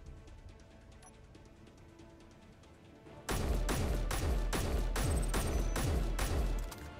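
Rifle fire in the video game Space Engineers, with about six loud, evenly spaced shots ringing out close after a few seconds of quieter low background sound.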